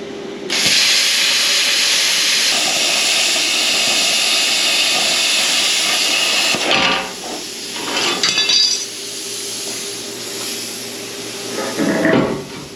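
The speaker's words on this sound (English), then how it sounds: "So I'm going to take and cut the top of this out" Metal being cut to build a cage for a Blue Mule utility vehicle: a loud, steady hissing roar runs for about six seconds, then stops, leaving scattered clanks and brief bursts of noise.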